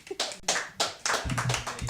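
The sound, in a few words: audience clapping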